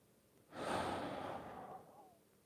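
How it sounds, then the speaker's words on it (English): A single deep breath drawn in during a morning mobility routine, close and clear, swelling quickly to a long airy rush that slowly fades over about a second and a half. "take in that big breath"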